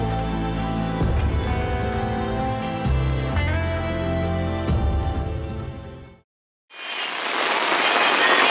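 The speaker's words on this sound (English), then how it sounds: "It's a rainstorm outside." Rainstorm pounding a tent on the Colorado Trail, a loud, dense hiss of drops that bursts in after music and a brief silence and lasts about two seconds.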